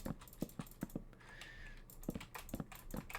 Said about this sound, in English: My keyboard is so loud.